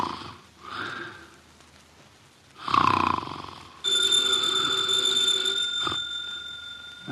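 Snoring from a heavy man asleep in a radio drama: one slow nasal snore, then a second louder rasping snore, followed by a steady bell-like ringing that continues underneath.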